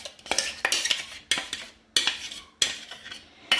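A metal spoon scrapes thick achappam batter from a bowl in repeated bursts of close, bright clinking and dragging, with brief pauses between strokes.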